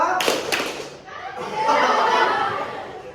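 A school class claps hands together in counted rhythmic patterns, a few sharp group claps early on, followed by a teacher's voice and some chuckling.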